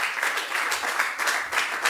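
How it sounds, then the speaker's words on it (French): Audience applause at a French-speaking gathering: steady, dense clapping from a crowd that holds an even level for about two seconds, with no talking over it. "Est-ce qu'on peut l'accompagner avec des applaudissements, s'il vous plaît?"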